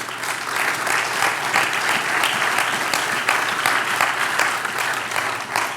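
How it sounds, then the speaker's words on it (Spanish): A church congregation claps loudly and continuously, a dense, even wave of applause throughout. "Un aplauso, Señor."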